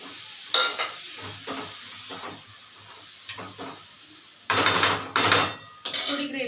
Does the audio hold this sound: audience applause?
no